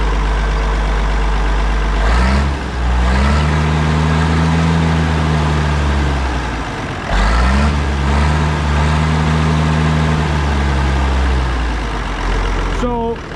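A Minneapolis-Moline G950 tractor with a 451 cubic inch engine and a new muffler revs up twice from a deep idle. The loud, close roar rises and falls, then settles back to a rumble.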